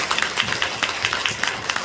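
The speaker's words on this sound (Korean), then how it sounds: "우리 모두를 위해서 우리 하나님께 영광의 박수를 드리도록 하겠습니다" Congregation applause in a church, steady rhythmic clapping from a group of people, moderately loud and sustained across the whole moment.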